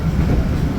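Steady low rumble and rolling wheel noise inside the stainless steel dining car of the Argo Dwipangga New Generation train, loud and continuous with no talk.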